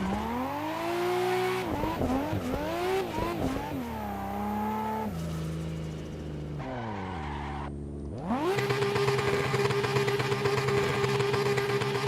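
A racing video game car engine held hard against the rev limiter, a loud buzzing drone that climbs and wavers in pitch before settling into a steady high rev, with tire skids mixed in.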